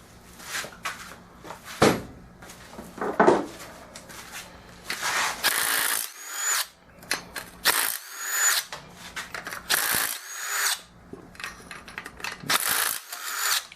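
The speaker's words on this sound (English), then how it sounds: "So pull all your head bolts out." Ratcheting wrench clicks rapidly in repeated bursts, close and loud, loosening cylinder head bolts on a racing mower engine one after another with short pauses between.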